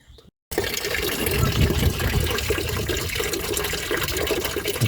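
Water rushes out in a steady, loud gush while the cooling circuit of a BMW E34 520i is flushed, starting abruptly after a brief quiet moment and continuing unbroken.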